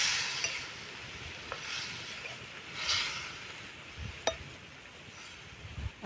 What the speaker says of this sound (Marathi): आणि व्यवस्थित मिक्स करून घेऊ